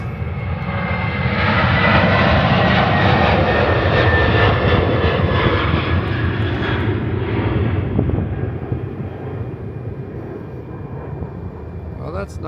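Light aircraft engines droning as more planes arrive at a general aviation airfield after an Alps-to-Belgium flight, a loud sustained roar that swells early and slowly eases, with speech mixed in.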